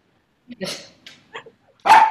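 Soft voice-like sounds and quiet murmurs, then one loud, close dog bark at the end.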